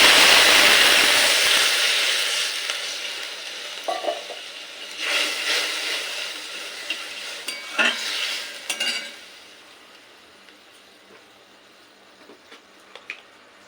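Water poured into a pan of stirred dry spices for mango chutney, a burst of sizzling and hissing at first that fades, followed by scattered spoon scrapes and clinks against the pan.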